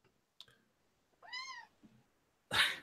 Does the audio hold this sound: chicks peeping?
no